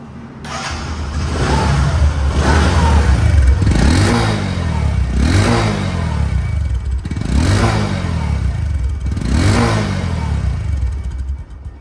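A Bajaj Discover 125cc motorcycle in showroom condition revs repeatedly, its engine swelling and dropping in a steady rhythm of throttle blips, loud and close with no talk.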